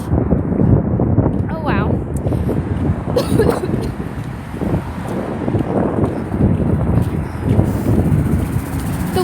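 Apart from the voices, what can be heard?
wind blowing into microphone while walking outdoors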